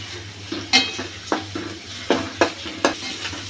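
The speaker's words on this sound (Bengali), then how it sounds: "এখন আমি এটা পেঁয়াজ আর রসুনের মধ্যে চিংড়ি মাছটা একটু ভেজে নিলাম।" Prawns fry in onion and garlic in a pan, a steady low sizzle broken by several sharp scraping stirs of a spatula against metal at irregular intervals, close and moderately loud with no talking.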